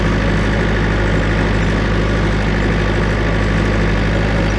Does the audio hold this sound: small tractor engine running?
yes